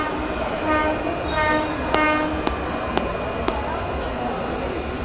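A train pulls into a station with a sustained horn sounding over a rumbling background, followed by a rhythmic series of sharp metallic clacks at a steady pace.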